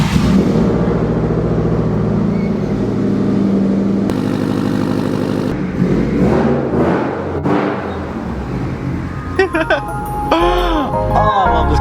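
A Subaru STI fitted with a new full lip kit cranks and fires up, settling into a rough idle with a few revs, while people talk excitedly close by.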